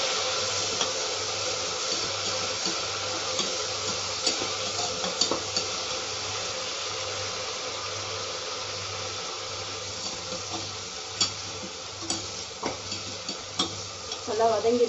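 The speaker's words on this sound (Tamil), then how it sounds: "நல்லா வதக்கிக்கலாம்." Coriander, curry leaves and mint sauté in a pan with a steady sizzle and hiss while a spoon stirs and scrapes now and then, continuing throughout.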